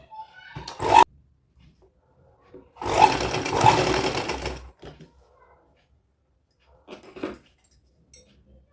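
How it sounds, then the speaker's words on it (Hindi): A sewing machine top-stitching a midi dress for a 1 to 2 year old girl runs in short separate bursts, the longest about two seconds, with quiet pauses in between and no talk. "यहाँ पर हम एक ऊपर से प्रेस सिलाई लगा देंगे।"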